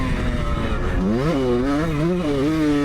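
A 50-year-old iconic dirt bike engine runs on a test track, loud and close, its raspy tone rising and falling steadily as the rider works the throttle and gearbox.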